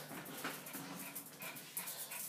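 A dog whimpers softly in short, high whines, with faint panting and shuffling nearby.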